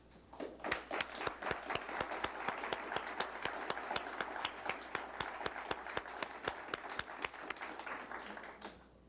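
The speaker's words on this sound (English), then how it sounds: "join me in a round of applause for all the recipients" An audience at a 1988 civic service awards ceremony applauds at length, a dense bed of clapping with a few sharp claps standing out in a regular rhythm, fairly faint and a little distant.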